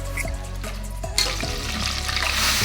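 Chicken with onion and hot chilli frying in a pan, stirred with clattering scrapes and scattered knocks over a steady sizzle, growing brighter and louder toward the end.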